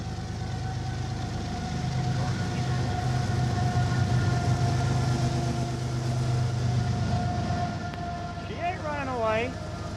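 Freight train in the Trainz simulator on the Soldier Summit route rolling with a steady low rumble while train brake is applied, with talk over it and a rising, warbling whistle-like tone near the end.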